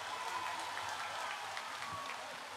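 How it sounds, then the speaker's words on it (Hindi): Audience clapping to welcome honoured guests at a community gathering, a steady, moderately distant wash of applause throughout with a faint tone and murmur underneath. "और भी हमारे सम्मानित अतिथि यहाँ पर है, उन सब की स्वागत में और एक जोर से तालियां हो जाए।"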